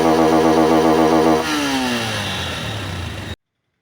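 A Honda CB 200X motorcycle engine fitted with a K&N air filter, revving loudly up close and then dropping to a falling idle before cutting off abruptly.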